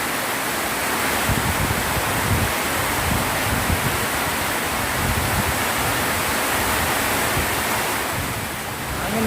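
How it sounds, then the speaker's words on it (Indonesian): Strong wind roars in a continuous, loud broadband rush during a heavy rainstorm outdoors at a roadside satay stall, with no voices over it. "Angin guys, angin."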